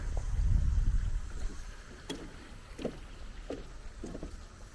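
Water running through a mill race past a mill wheel in a frontier village, a steady rushing wash with a gusty low rumble at first, then a few soft splashing surges at regular intervals, no talk.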